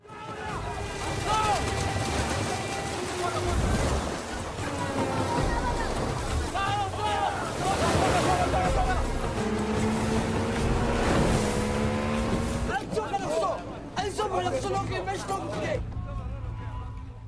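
A small boat powers across the open sea in a scene about Somali pirates setting out on a hunt, its engine droning steadily over splashing water and surf, with a narrator speaking on top throughout.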